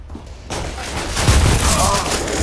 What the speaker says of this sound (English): I was in the middle of shooting somebody to death